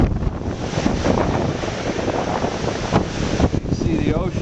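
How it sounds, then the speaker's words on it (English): Strong wind of about 40 mph buffets the microphone near the ocean. It makes a loud, continuous roar with gusty surges and no pauses. "We've got about a 40-mile-an-hour wind here today."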